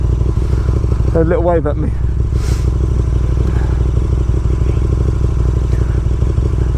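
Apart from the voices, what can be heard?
2019 KTM Super Duke R motorcycle riding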